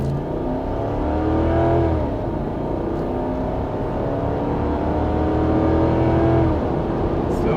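A V8 Toyota 4Runner accelerating hard through a timed drag run, its engine droning and rising in pitch through several gear changes, heard from inside the cabin, steady and loud with no talk.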